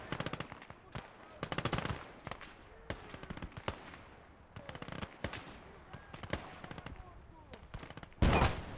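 Gunfire rings out in a World War II Eastern Front battle in the game Call to Arms: Gates of Hell, with sharp rifle and machine-gun bursts at uneven intervals, some near and some distant, ending in a heavy explosion.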